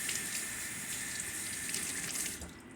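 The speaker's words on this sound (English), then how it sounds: "So what I'm going to do is wash this off." Tap water running steadily into a sink while a knife is washed off, a close continuous splashing rush that softens just before the end, no talk.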